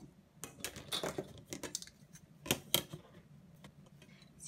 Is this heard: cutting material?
yes